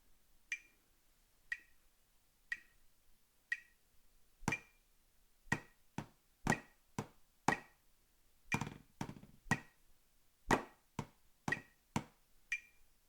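Snare drum rudiments played as crisp single strokes and flams: sparse, evenly spaced hits at first, then quicker clustered strokes, each sharp and close with brief ring, no talking.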